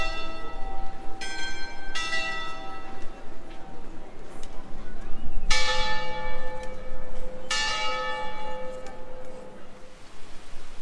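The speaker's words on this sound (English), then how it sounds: "That's the bell." Several loud, resonant church bell strikes ring out one after another with long fading tones in Narbonne, France, over outdoor ambient noise and occasional voices.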